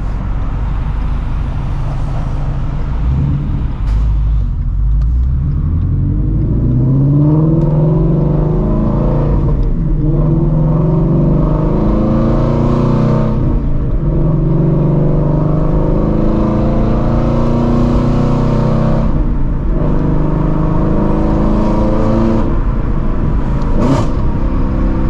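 A straight-piped Shelby GT350 on a road drive roars loudly through repeated accelerations, engine pitch climbing through the gears with sharp shift breaks, close and raw, with traffic passing around it.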